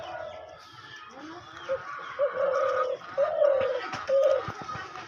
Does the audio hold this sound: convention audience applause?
no